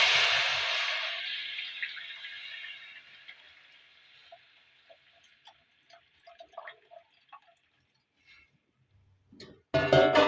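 Dissolved tamarind water pours into a rasam pan for kalani rasam with a broad splashing rush that fades after a couple of seconds, followed by scattered drips and small clinks before a brief louder clatter at the end.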